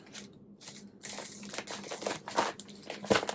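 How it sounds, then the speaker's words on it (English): Packing tape pulled and pressed onto a cardboard parcel, with crinkling, crackling bursts that come and go and grow denser over the last couple of seconds, close by with no talk. "Might put an extra piece of tape on just in case."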